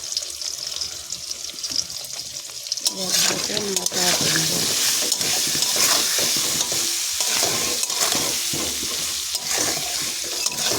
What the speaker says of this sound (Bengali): এখানে লাল লাল করে আলুগুলো ভাজা হয়ে গেছে